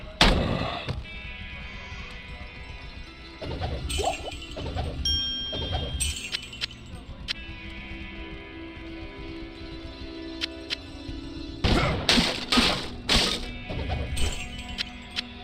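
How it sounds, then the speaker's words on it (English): Explosions and impacts from the video game Diablo 2, including an exploding barrel, with several loud bursts near the start and a cluster of heavy blasts toward the end, over busy game sounds. "Yes, you can die from an exploding barrel."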